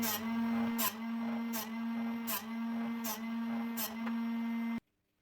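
A Drill Doctor XP bench sharpener grinds a drill bit. Its steady motor hum is broken by six evenly spaced rasping grinding strokes, then it cuts off abruptly into near silence.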